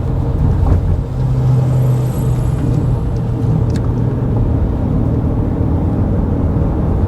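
A Ford Maverick Hybrid pickup with a CVT drives under partial throttle, giving a steady loud road and engine rumble heard from inside the cab, with a faint hum rising and falling slightly and no talk.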